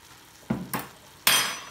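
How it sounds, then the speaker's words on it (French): Stirring meat with spices and coarse salt in a pot for Moroccan three-meat couscous produces three sharp scraping, clattering strokes, the last the loudest and longest, over near silence. "Là, on va touiller."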